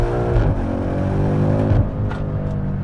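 A BMW M5 accelerates hard in second gear at full throttle, its engine note loud, close and steadily rising for a few seconds with no talk.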